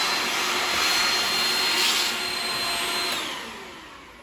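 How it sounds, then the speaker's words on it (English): A vacuum cleaner sucks debris and bugs out of the small holes in a window track, its loud steady whine running throughout and easing slightly toward the end, with no talking. "I like to take my vacuum cleaner and just vacuum inside of the little holes"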